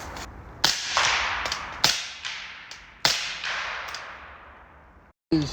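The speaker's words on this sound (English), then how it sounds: "This is a loud box of ammo that we're shooting right now." Subsonic .300 Blackout rifle shots fired close to the microphone, four sharp cracks about a second apart with short reverberant tails ringing out in the open, then a final shot after a brief gap.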